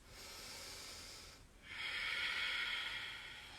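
Slow, steady breathing during a yoga pose rises on tiptoe at a class in London: a soft, close airy exhale, a brief pause, then a longer, fuller hissing breath, with no talking.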